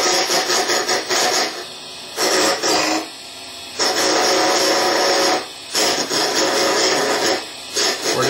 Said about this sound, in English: We're just rounding the corners off this blank.